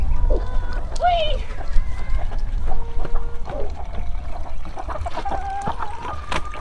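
A backyard chicken gives short clucks and squawks at close range over a low rumbling background, with a voice breaking in now and then.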